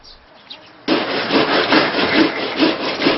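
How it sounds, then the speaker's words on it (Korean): Potatoes grated by hand in a Gangwon-style Korean kitchen: a steady, close, scratchy rasping that starts abruptly after a quiet moment and continues in rhythmic strokes. "감자 가는 소리가 꼭 음악 같습니다."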